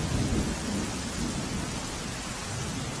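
Torrential rain pours down in Surendranagar, Gujarat, during flooding, making a loud, unbroken wash of broadband noise with no pauses or voices.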